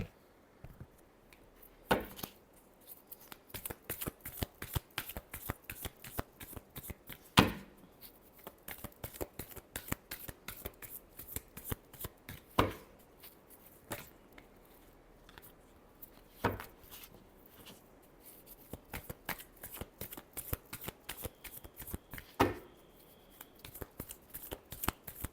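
Tarot cards being shuffled close up for about 25 seconds, a steady run of crisp riffling flutters broken by a few louder snaps as the deck is squared, with no talking.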